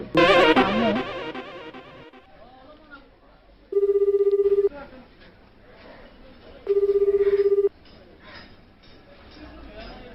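A telephone rings twice, each ring a buzzing electronic trill about a second long, with a pause between and faint background talk.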